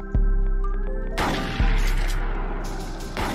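Two loud, close shotgun blasts from the game Fake Fortnite, about a second and a half apart, each a sharp broadband crack with a decaying tail, set against a steady game hum.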